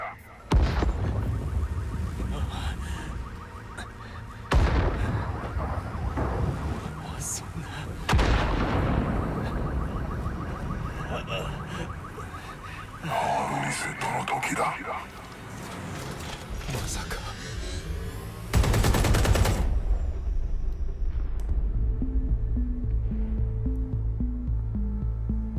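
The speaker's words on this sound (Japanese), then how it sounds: "爆発が起こりました。" Explosions and gunfire erupt in the video game Watch Dogs: Legion, set in a high-tech London, with heavy booming blasts and mechanical clatter sounding loud and close, mixed under game music and speech.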